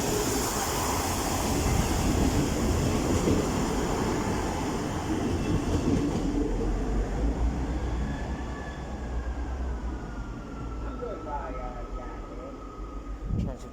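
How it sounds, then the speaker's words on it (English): An East Midlands Railway class 158 diesel unit for Matlock rumbles loud and close at Nottingham station, a heavy engine drone with wheel noise that eases off and ends in a thin brake squeal. "Working the 10:18 East Midlands Railway service to Matlock."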